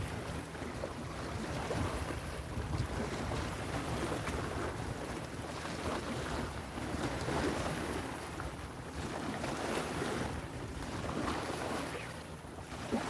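Wind blows steadily outdoors, buffeting the microphone with a low rushing roar that swells and eases in gusts, no voices.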